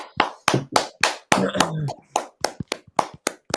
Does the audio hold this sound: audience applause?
yes